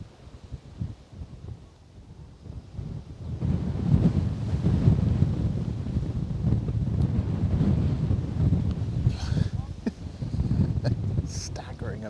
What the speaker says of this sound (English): Staggering amount of wind.